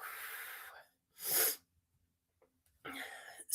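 A single sharp sneeze bursts out in a quiet room, close and short, set between stretches of soft breathy noise.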